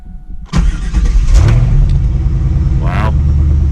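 A Chevrolet Camaro SS engine cranks and fires up close by, catching with a sharp rise into a loud, steady rumbling idle that holds through the rest, with a brief rev partway in.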